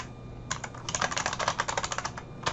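Rapid computer-keyboard typing while entering a Linux mknod command: a quick burst of light, close key clicks running about two seconds, with a brief pause before a final couple of taps.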